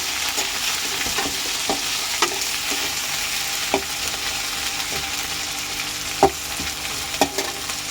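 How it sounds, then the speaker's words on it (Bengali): Coconut fries with tomato, chili and ginger in a pan for ghugni, giving a steady hiss of sizzling broken by occasional scrapes and clinks of stirring, with no voices. "নারকোলটা ভাজতে দিয়েছি"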